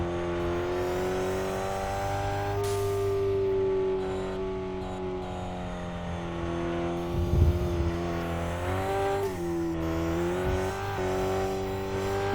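A race car engine in the RevHead video game, running on slick tyres and accelerating in second gear, a steady high droning whine with rising and falling pitch as revs change, close and continuous.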